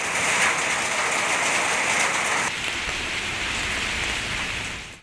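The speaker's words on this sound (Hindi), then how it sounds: "कहीं कहीं बारिश और यालाबारी भी हुई" Steady heavy rain pours onto surfaces in a dense, loud hiss that holds unbroken, its brightness shifting halfway through, with no voices.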